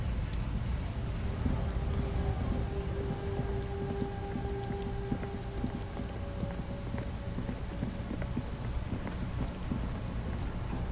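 Steady rain in the video game Disco Elysium, a dense, continuous patter of drops with soft low rumble, holding evenly throughout with faint tonal hums from the game's ambience beneath.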